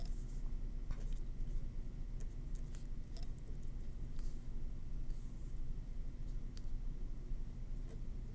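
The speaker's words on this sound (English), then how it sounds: "So let me write that down." Pen or pencil scratches across paper while class notes on Newton's first law are written out by hand, soft intermittent strokes and taps close by over a steady background hum.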